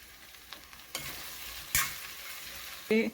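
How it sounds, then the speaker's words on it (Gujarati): Chopped okra stir-fried in hot tempering in a pan, a steady sizzle broken by a few sharp spoon scrapes and clanks as the vegetables are tossed. "સમારેલા ભીંડા ઉમેરી લઈએ. વઘાર સાથે સરસ રીતે મિક્સ કરી લઈએ."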